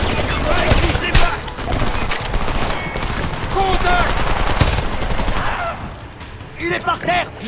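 Gunfire in the video game Homefront during a helicopter recovery under fire, dense rapid bursts and repeated loud shots running throughout while voices call out over it.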